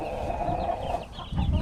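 Backyard chickens, babies among them, cluck and murmur softly while pecking at greens, a short close burst of low fowl chatter.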